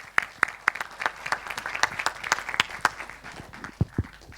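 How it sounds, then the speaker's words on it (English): Sparse applause from a small audience after a Kubernetes community conference talk, with distinct individual claps in a loose rhythm, fairly close and moderately loud. "it's also time to give you a little bit of applause"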